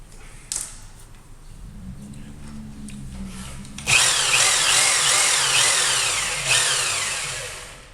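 A thread is retapped in hardened Bondo: after a low creaking buzz, a drill-like tool starts abruptly and runs loudly for several seconds with a gritty, scraping, cyclical grind close by.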